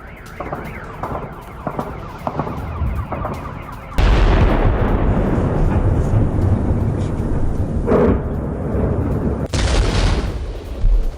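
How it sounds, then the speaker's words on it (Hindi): Explosions from a drone attack on Kyiv, shown in news footage. Rumbling blasts and crackling booms sit under constant noise, with a sudden loud burst about midway and more heavy impacts after it. "कीव के कई इलाकों में धमाके, पोल्टावा, विनिस्तिसिया में धमाके"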